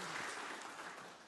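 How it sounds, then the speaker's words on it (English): Applause from a congregation during a church service, a steady wash of hand clapping that holds across the whole short stretch and fades slightly toward the end. "You can clap if you want."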